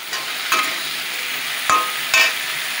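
Potato and ash gourd pieces go into soybean chunks frying in oil, bringing a constant sizzle. Three sharp scrapes of a spatula stir the pan, with no talking.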